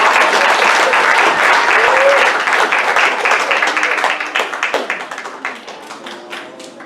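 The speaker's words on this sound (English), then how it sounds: "Can we give a clap offering for God this morning?" A church congregation gives a clap offering at a White Sunday morning service: loud, dense applause from many hands that thins out and fades over the last few seconds.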